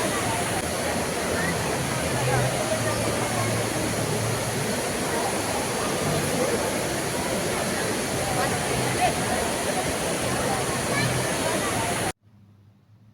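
The indoor waterfall at the Dubai Mall roars as a constant, loud rush of cascading water, steady and unbroken for about twelve seconds before cutting off abruptly.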